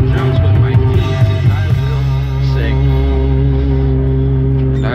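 A one-man band plays keyboard with four fingers of the right hand, strums guitar with the thumb and picks a bass line with the other thumb, giving sustained layered chords over a deep bass drone, loud and close.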